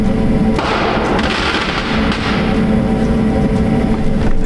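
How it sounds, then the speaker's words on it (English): Fireworks burst and crackle near a camper van parked at night, a dense, continuous barrage of pops and thumps that stays loud throughout with no one speaking. "Is someone exploding fireworks?"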